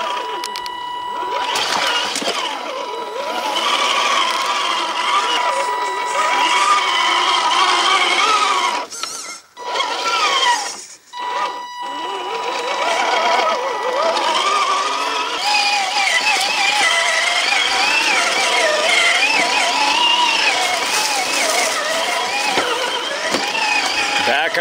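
An 8th-scale Founder 2 Rubicon RC crawler drives a backyard off-road trail course, its electric motor giving a continuous whirring whine that rises and falls, briefly dropping out, while a person talks.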